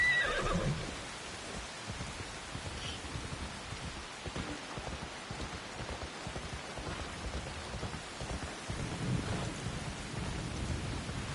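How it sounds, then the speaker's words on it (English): A horse whinnies in Assassin's Creed Shadows amid steady rainfall and low rumbling, with the downpour continuing throughout. "Let's grab a horse."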